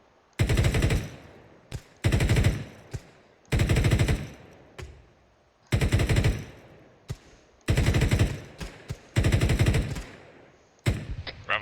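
Rapid airsoft gunfire from squad training, in repeated bursts of roughly a second each, separated by short pauses, loud and close with no talk.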